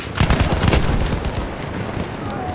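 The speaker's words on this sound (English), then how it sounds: "MG, feindlich!" Loud bursts of enemy machine gun fire in the World War I shooter Battlefield 1, rapid rattling shots and heavy blasts crowding the first second, then a lingering noisy rumble of battle.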